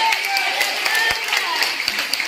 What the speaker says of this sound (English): Clap your hands into the Lord